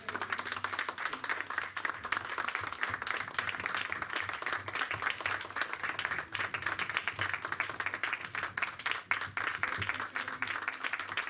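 Continuous applause from a church congregation, steady dense clapping heard from a moderate distance with a faint murmur of voices underneath.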